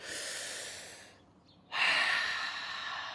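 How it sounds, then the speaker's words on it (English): A deep breath drawn in, close and fairly loud, with steady airy rushing, a brief pause, then a stronger inhalation or exhale continuing alone. "So you take a big deep breath with that breathing in."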